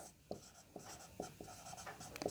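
Marker or chalk strokes on a classroom board during a chemistry lesson, a handful of short squeaky scrapes at an irregular pace, close and fairly clear, with no talking in between.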